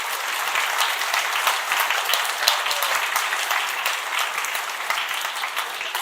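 Audience applause at the ICPC World Finals programming contest, a steady dense clapping from a large crowd that holds evenly for the whole stretch without voices over it.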